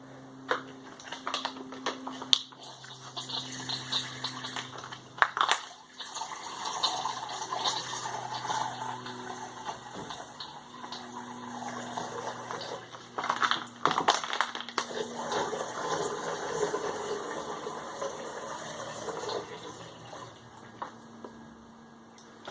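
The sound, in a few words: water flowing through Sawyer Squeeze water filter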